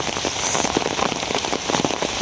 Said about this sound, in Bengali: এখন আরও বৃষ্টির স্পিড বাড়তেছে বেশি।